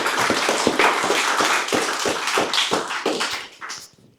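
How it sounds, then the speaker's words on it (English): An indoor audience at an evening talk applauds its speakers with a dense burst of clapping that lasts a few seconds before thinning out and fading away. "Round of applause for all of our speakers tonight."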